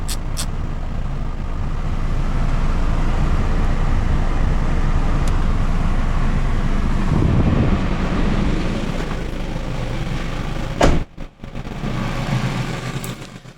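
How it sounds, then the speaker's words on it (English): A Hyundai i30 FD Touring engine runs steadily while warming to operating temperature, a continuous low engine drone with some road-like broadband noise, briefly interrupted near the end before resuming. "Start the engine and allow it to reach operating temperature."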